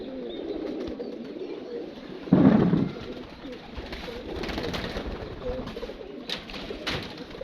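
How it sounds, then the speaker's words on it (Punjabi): Pigeons at a pigeon club coo steadily nearby, with a louder burst partway through and a few faint chirps and wing sounds over a low background murmur. "ਤੇ ਰਾਜ ਜੀ ਹੁਣ ਤੇ ਸੁਣਿਆ ਕਬੂਤਰ ਵੀ ਵੱਧ ਗਏ ਨੇ ਜੀ।"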